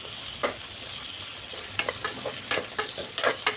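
Ginger and masala for paneer butter masala fry in a pan with a constant sizzle, punctuated by repeated spatula scrapes and stirring knocks.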